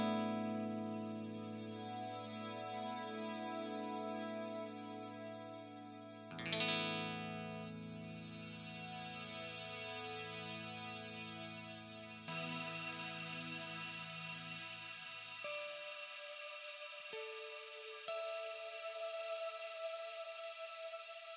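Electric guitar played through a Kemper Profiler reverb, sustained chords ringing with a lush, long tail; a fresh strum near the middle blooms louder, and later notes fade into spacious decay, played alone without talk.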